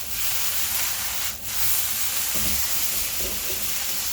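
Thinly minced potatoes with Sichuan pepper sautéing in a pan give a steady, close frying sizzle and hiss, with a few soft scraping stirs partway through and no talk.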